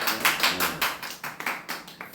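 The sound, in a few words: audience clapping once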